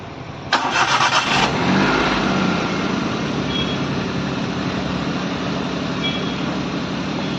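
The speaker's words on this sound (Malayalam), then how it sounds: "ഓക്കെ, നമുക്കൊന്ന് ക്രാങ്ക് ചെയ്ത് നോക്കാം നമ്മുടെ കാറ്." A Maruti Alto with starting trouble cranks in a short, rapid chattering burst, then catches and settles into a steady idle that hums on close by, without any talking.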